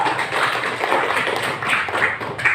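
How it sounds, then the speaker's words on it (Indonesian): A school class claps hands together in a classroom, a dense, fairly loud patter of many small hands with a few louder claps rising near the end. "tepuk tangan untuk semua"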